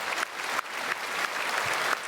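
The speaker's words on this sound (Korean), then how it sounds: "박수로 축복하겠습니다" Church congregation applauding during a Sunday worship service after a choir and ministry groups' praise performance, a steady dense wash of clapping throughout with no talk.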